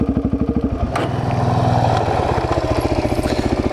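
A 2008 Suzuki DRZ400S motorcycle engine runs close by with a steady, thumping single-cylinder pulse that swells into a brief rev before settling back to its rhythmic beat.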